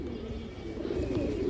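High flyer pigeons coo in a loft, a low throaty burbling that swells a little toward the end, continuous and close, with no talk over it.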